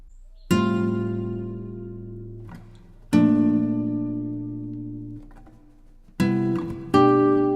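A guitar chord is strummed three times, each ringing out and slowly decaying before the next, with a brief muted scrape between them.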